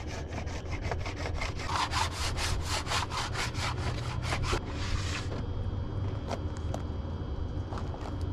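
Wax is scraped off a snowboard base in a rapid run of about a dozen loud, rasping strokes over some four seconds, then quieter scattered scrapes and taps continue to the end.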